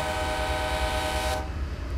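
A locomotive horn sounds loud and close in Train Simulator 2016 on the Feather River Canyon route, a sustained chord-like blast that cuts off sharply near the end, leaving low engine rumble.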